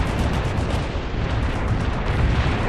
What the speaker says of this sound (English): Barrage hit for full effect.